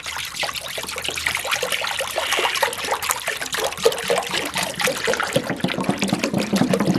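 Apple cider pours into a crock pot as a steady close trickle and splash of liquid, with no talk.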